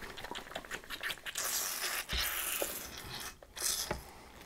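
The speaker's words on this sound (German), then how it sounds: "Dann seht ihr, wie das hier ordentlich sprudelt" A carbonated water bottle with a balloon stretched over its neck is shaken hard, giving rhythmic rattling, sloshing bursts mixed with fizzing hiss of escaping CO2, close and fairly quiet, with no talk.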